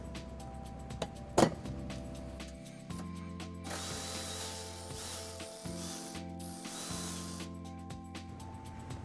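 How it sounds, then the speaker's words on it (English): A ratchet fitted with a 12mm socket clicks steadily while removing a bumper bracket screw on a 2018 Infiniti QX60, close and clear, with a sharp knock early and short bursts of rapid pawl clicking throughout. "we're going to remove this screw using a 12mm socket"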